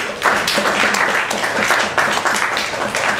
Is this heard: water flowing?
no